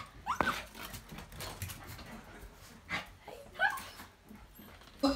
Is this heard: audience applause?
no